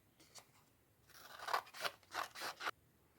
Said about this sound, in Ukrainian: І розріжемо його по лінії згину.